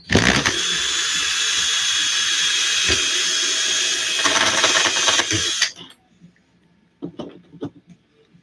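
A power drill bores into parts during an RC10GT RC car repair on a workbench, whirring loudly and steadily for about five and a half seconds before stopping, followed by a few faint clicks of handling.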